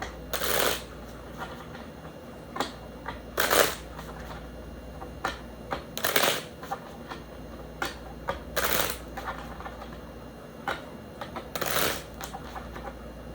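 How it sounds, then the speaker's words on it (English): Playing cards being shuffled in several quick riffling bursts, separated by pauses with soft handling clicks and taps, close and fairly quiet. "How do you know when to quit shuffling, Mimi?"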